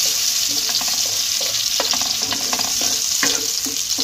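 Raisins frying lightly in a pan while being stirred for carrot halwa, a steady soft sizzle with scattered scraping and stirring clicks throughout, close and continuous with no talk.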